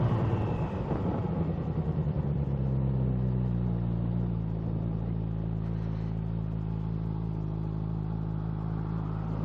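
A Suzuki Gixxer motorcycle rides onto a highway, its engine a steady loud drone with wind rumble that climbs in pitch early, then holds constant, with no talk.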